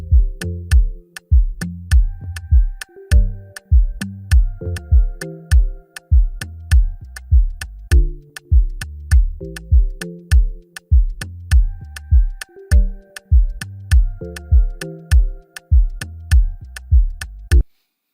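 A solo bass guitar plays an Afrobeat groove, the third pattern in a set, with short, punchy, evenly spaced plucked notes that shift in pitch and repeat in a steady loop, and no talking.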